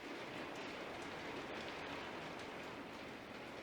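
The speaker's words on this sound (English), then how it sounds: "the hailstones are belting down" Hailstones fall outside in May with a dense, continuous hiss of pelting impacts, faint and steady, with no voices over it.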